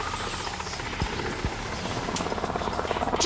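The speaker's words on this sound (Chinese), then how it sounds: "直升机" A helicopter's rotor chops steadily at close range in an animated yo-yo battle series, a loud continuous whirring buzz with a rhythmic beat that grows slightly stronger toward the end.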